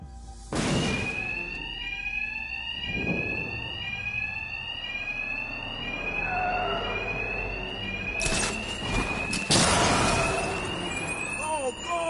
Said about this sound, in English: Two-Face's thugs won't hear me over the alarm.